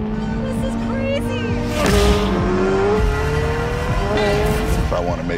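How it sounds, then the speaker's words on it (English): A race car with a naturally aspirated flat-plane-crank V8 revs hard, engine pitch sweeping up and down with brief tire squeal, close and loud while someone talks over it. "Fundamentally, a race car that you can drive on the road."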